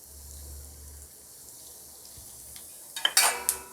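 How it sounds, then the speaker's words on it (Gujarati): Whole peppercorns, cloves and cinnamon crackle in hot oil as the tempering is poured over gunda pickle, a sharp burst of sizzling and spitting rising near the end after a quiet, low hum. "લવિંગ ફૂટે પછી આ વઘાર છે આપણે કુરિયા ઉપર એડ કરીશું"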